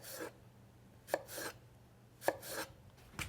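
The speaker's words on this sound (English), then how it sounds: "I'm gonna cut the apple into half moons, really thin slices" A knife slices an apple into thin half-moon pieces on a cutting board, giving three quick, crisp cuts with short scraping drags between them, close up and quiet with no talking.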